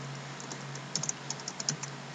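Someone types on a computer keyboard: a short burst of light, quick key clicks, close and fairly quiet over a faint steady hum.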